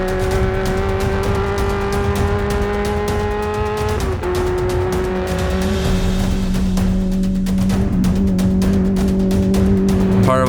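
A Crosstrack off-road race car in a 500-mile desert endurance race drives close and loud, its engine holding a steady droning note with shifts in pitch around gear changes, no voices over it.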